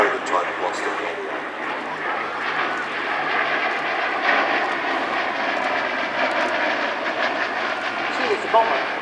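A vintage bomber flies past at an air festival, a broad steady drone of piston engines filling the air, with a commentator talking over it throughout.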